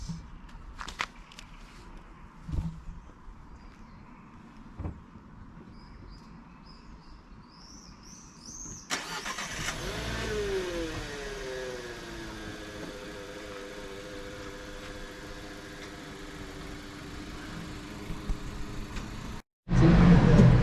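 A car engine heard from inside the moving vehicle on a ride toward a beach, a low steady hum and road rumble with a rising drone, faint and continuous, ending in a sudden loud burst.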